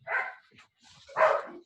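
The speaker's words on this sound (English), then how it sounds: "cut down on my dog's barking a little bit" An indoor pet dog gives two sharp barks with a short pause between them, at moderate distance, with no talking over them.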